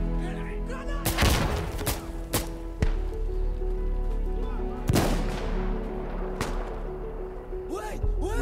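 A volley of gunfire from a tactical first-person shooter video game on console: loud, sharp shots in bursts of several cracks with long booming tails, scattered across the stretch, while players talk and laugh over it.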